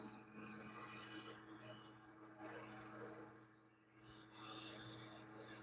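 A wood bowl spins on a lathe while sandpaper rubs against it, producing a steady, faint rasping hiss over the motor's low hum, swelling and easing as pressure changes.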